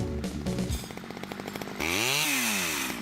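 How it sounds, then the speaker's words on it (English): A chainsaw idles in a rough stuttering putter, then revs up into a loud sustained whine as it cuts through tree branches, close and alone with no talking. "Have you ever operated a chainsaw"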